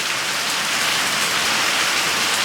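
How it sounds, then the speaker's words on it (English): Steady rain pours down on a sunny day with a rainbow overhead, a dense, even hiss of drops hitting surfaces close by, continuous and loud with no talking. "Sunshiny and raining."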